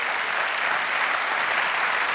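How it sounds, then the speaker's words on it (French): Continuous television studio audience applause, a dense, even wash of many hands clapping with no pauses or voices. "Mesdames et messieurs, vous pouvez applaudir"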